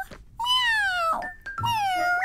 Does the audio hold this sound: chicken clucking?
no